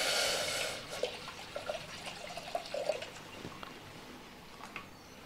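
Water poured into a cooking pot, about two tumblers' worth of borewell water: a soft splashing pour that trails off into quiet trickles and drips, fairly faint and with no talk.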